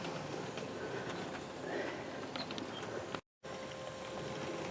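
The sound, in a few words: USA Trains 11-car model train running on layout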